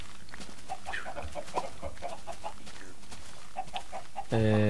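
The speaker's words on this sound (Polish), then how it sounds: "kurczaki po prostu czekają, żeby uciec tylko" Chickens in the Minecraft video game give short, repeated clucks in loose bursts over a soft background, with a louder tonal game sound at the very end.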